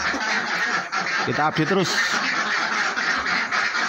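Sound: ducks quacking in a duck pen

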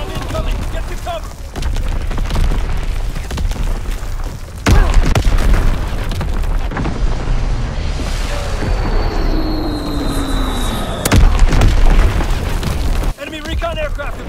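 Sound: artillery explosions in Call of Duty WWII video game

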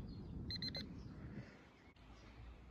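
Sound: Dr Otek waterproof pin pointer beeping

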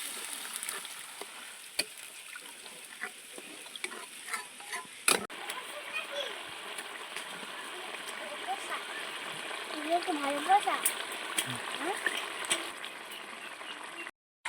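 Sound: water poured into a pan of spiced fig curry

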